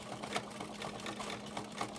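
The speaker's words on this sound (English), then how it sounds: "using our domestic machine where we can actually quilt our own quilts ourselves" A domestic sewing machine doing free-motion quilting on a home quilt, its rapid even needle chatter running steadily and close throughout, alone with no voices.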